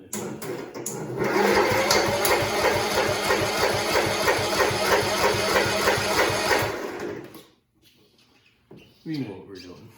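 Cub Cadet lawn tractor engine running at a steady rapid chug for several seconds close by, then cutting off abruptly, followed by brief talking.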